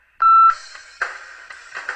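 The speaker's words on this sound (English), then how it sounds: "Please leave your message after the beep." A single sharp electronic beep sounds, followed by faint crackly, muffled noise and fragments like a phone line opening.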